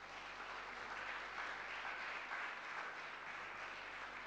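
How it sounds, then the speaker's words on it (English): Audience applause at a literary reading event, a steady wash of clapping heard from some distance, fairly quiet and even throughout with no voices over it. "let's have a big warm round of applause for Orlando Paige."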